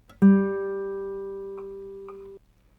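A single plucked open G (third) string on a classical guitar rings out clearly on one steady note, sustaining for about two seconds before being cut off.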